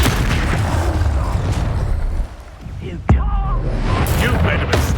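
A spell is cast in the Hogwarts Legacy video game: a sharp magical burst strikes around the three-second mark, then a brief shimmering tail, amid ongoing game effects, combat noise and voice.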